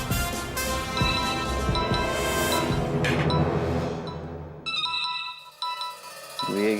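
A phone ringtone plays as a bright, repeating electronic melody over a busy, dramatic television score, the tones standing out more clearly once the music thins toward the end.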